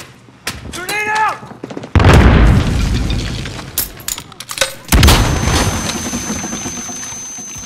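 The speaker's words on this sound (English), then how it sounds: "Grenade out." A grenade goes off in a Call of Duty: Modern Warfare team deathmatch, landing as a loud, deep boom followed by a long rumbling tail. Gunfire cracks around it, a second heavy blast hits partway through, and a brief voice-like sound comes before the first blast.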